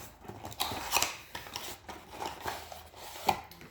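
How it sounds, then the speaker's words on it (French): Cardboard box of an injectable medication being opened by hand, with a string of crisp tearing, scraping and flap-rustling sounds at close range and no voices. "Bon ben on va déjà ouvrir la boîte."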